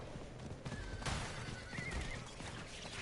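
A horse neighs and whinnies in Diablo IV, its call rising over game ambience with clopping hooves and rustling movement, loud and close, with no talk.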